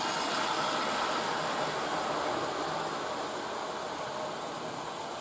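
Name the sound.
Dublo model train engine running on Gagemaster controller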